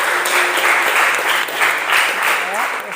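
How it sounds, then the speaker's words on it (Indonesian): Students in a classroom clap together in a steady burst of applause lasting about three seconds, mixed with some voices. "Tepuk tangan untuk kalian semuanya."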